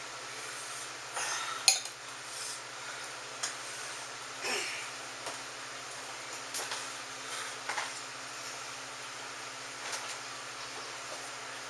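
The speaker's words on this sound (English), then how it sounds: "Stir it up a little bit." A spoon stirs a pot of chili, with a few soft clinks and scrapes of metal against the pot over a steady low electrical hum, close but faint.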